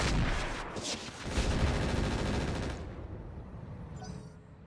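Weapons fire in the video game RogueTech, a BattleTech mod, a dense roaring barrage of heavy rumbling blasts that fades into a quieter tail with a faint high rattle near the end.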